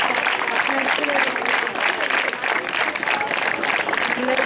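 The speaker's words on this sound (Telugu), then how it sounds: "చప్పట్లు." Applause from a crowd of parents and students at a school parent-teacher meeting in Maldakal, a dense steady clatter of clapping that runs loud and unbroken through the whole stretch.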